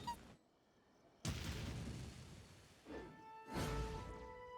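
Fireworks go off in the Genshin Impact video game, a few booming bursts with whooshing sparkle tails and ringing tones, separated by quieter gaps, faint overall.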